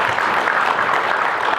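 An audience of university students claps at a book concert at Kangwon National University in Chuncheon, a dense, loud and even wash of applause throughout.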